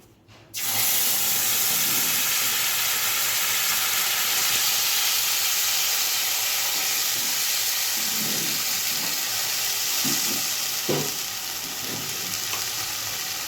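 Onion, tomato and chili paste frying in hot oil with bay leaf for a Bengali rohu fish curry, a loud continuous sizzle that starts abruptly, with occasional stirring scrapes near the end.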